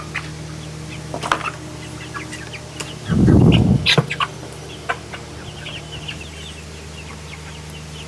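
Chickens in a backyard garden coop cluck and squawk while being fed watermelon, with a short loud flurry of cackling midway among scattered sharp calls.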